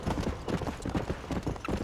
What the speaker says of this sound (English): It's just a horse.